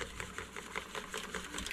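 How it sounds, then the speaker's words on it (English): Eggs and pumpkin batter whisked briskly in a bowl, a steady run of quick rhythmic scraping taps close by for nearly two seconds. "let's get this whisked up"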